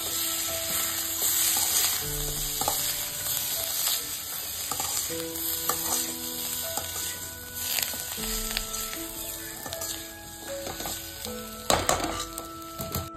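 Chicken majestic with coriander being stirred in a frying pan, with a steady sizzle and repeated scraping and clinking strokes of a utensil against the pan throughout.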